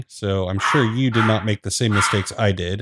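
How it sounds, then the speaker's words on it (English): Dogs bark and yip in the background of a room while someone talks steadily over them, the barking mixed beneath his voice. "Sorry about my dogs in the background."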